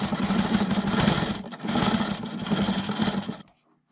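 Longarm quilting machine stitching in two fast, buzzing bursts with a brief pause between, close and loud, then stopping and falling quiet.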